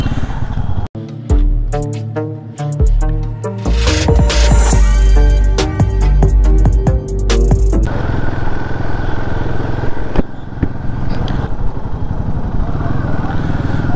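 A Royal Enfield Himalayan 450 motorcycle engine starts and revs, a loud close thumping run with throttle blips, then settles into a steady idle.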